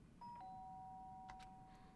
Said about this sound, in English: The sharp sound of a doorbell pierced my sleepy haze and pulled me back to the real world